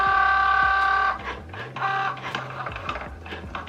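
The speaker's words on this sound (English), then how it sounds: "once that's connected it should start cutting out the materials, and then simply tap go for it to cut out your vinyl" A Cricut Joy cutting machine cuts vinyl, giving a steady whirring motor drone for about a second, then stop-start mechanical buzzing and clicks as the carriage moves, close and alone.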